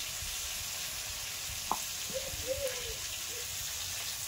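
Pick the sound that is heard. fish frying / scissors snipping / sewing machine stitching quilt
fish frying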